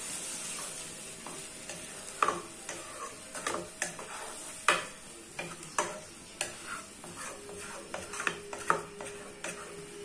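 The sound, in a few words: stirring scrambled eggs in a frying pan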